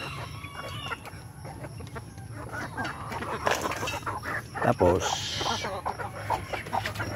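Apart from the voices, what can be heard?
chickens clucking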